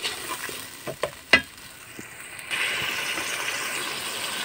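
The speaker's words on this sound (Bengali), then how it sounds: "এবার সুন্দরভাবে নেড়ে চেড়ে নিয়ে আমি এটা খুব ভালোভাবে কষিয়ে নিব।" Spices for chicken pulao stirred and fried in a pot: a few sharp scrapes and knocks of the spoon early on, then a steady, louder sizzle takes over, close by.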